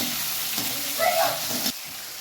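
Tomatoes sautéing in a frying pan during cooking of a chicken and intestine curry, a steady close sizzle with stirring scrapes that swell briefly, then cut off abruptly near the end.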